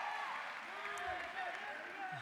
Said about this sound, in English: Can we give them a round of applause one more time?